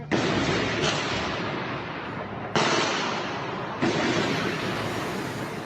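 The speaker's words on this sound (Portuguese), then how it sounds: "Um vídeo feito por um morador e postado em redes sociais registra os tiros" Gunfire during a bank robbery, recorded from a distance by a local resident: several dense, sustained booming bursts, each cut off sharply. Heavy reverberation and a loud rumbling wash fill the gaps between them.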